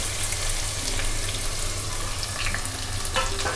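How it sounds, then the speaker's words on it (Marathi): Chopped onion fries in well-heated oil with a little coriander, a steady, fairly loud sizzle with faint stirring clatter and a low hum beneath, no voices. "हे बघा तेल चांगलं तापलं आहे. आता मी पहिल्या त्याच्यात कांदा घालते बघा"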